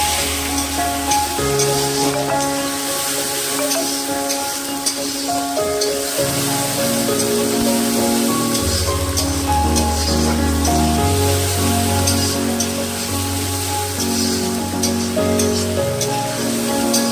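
Chicken curry with ginger-garlic paste and tomatoes sautéing in a pan, a steady loud sizzle running throughout under sustained background music.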